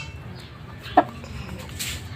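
A single short cluck from a Talisayin chicken close by, over low background rumble and faint talk.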